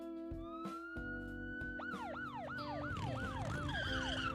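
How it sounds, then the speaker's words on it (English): Rising and falling siren wail inside the video game Zenless Zone Zero, starting with a steady tone and then sweeping in a repeated rhythmic cycle over a busy low rumble of traffic, loud and continuous. "the wail of a siren cuts through the air, followed immediately by the screech of tires"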